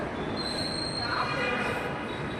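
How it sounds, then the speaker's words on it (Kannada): A metro train at a metro station gives a steady, loud rumble with a thin wheel squeal running above it. No one speaks. "ಇವಾಗ ಮೆಟ್ರೋ ಸ್ಟೇಷನ್ ತಲುಪಿದ್ದೀವಿ"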